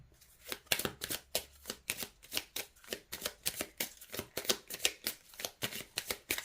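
Tarot cards are shuffled by hand to draw an advice card, a quick run of crisp riffling flicks repeating in a steady rhythm, close and fairly quiet, with no voice over it.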